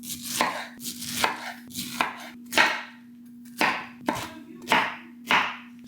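A knife chops through a pink pineapple on a cutting board, about nine firm, close thuds in an uneven rhythm, each with a crisp slicing edge, over a faint steady hum and no talking.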